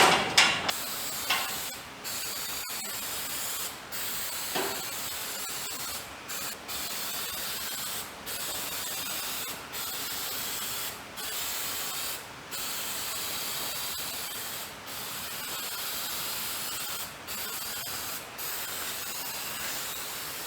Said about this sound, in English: All right, let me get the spray glue out.